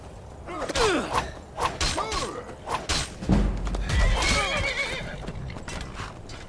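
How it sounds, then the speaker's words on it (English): A horse in the Skyrim video game neighs and whinnies angrily several times, mixed with clip-clopping hooves and a few thuds, loud and close with no talk. "That horse was angry."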